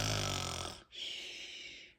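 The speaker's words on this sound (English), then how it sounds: "Within moments, he was snoring." A napping duck snoring in small bushes, one long rasping inhale followed by a brief pause and a softer, airy wheezing breath, quiet and close.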